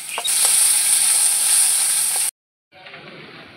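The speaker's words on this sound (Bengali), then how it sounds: "আলুটা ভাজা ভাজা হয়ে গেছে" Potatoes fry in a pan with a steady, fairly loud sizzle that cuts out abruptly into a short silence and then returns more quietly.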